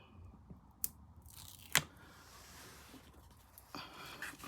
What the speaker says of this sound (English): let me just peel that red liner tape off